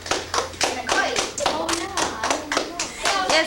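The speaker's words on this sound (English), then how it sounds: "let's clap for our visitor" A fifth-grade class of children claps for a visitor in a classroom, a brisk, uneven burst of many hands clapping close by, with faint children's voices mixed in.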